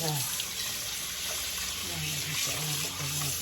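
Tap water runs steadily and close while mackerel is rinsed clean in a sink, with a faint voice under the rush of water.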